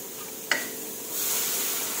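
Shallots, garlic and lemongrass stir-fry in a pan, a brief scrape near the start followed by a steady, fairly close sizzle that swells and holds on to the end.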